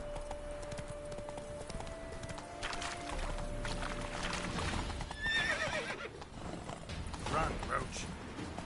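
Roach, the horse in The Witcher 3, gallops with quick rhythmic hoof clip-clops and lets out a couple of sharp whinnies, alongside mechanical creaks and game sounds.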